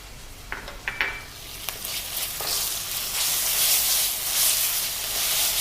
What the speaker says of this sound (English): Let's add the ginger garlic paste and the green chilies.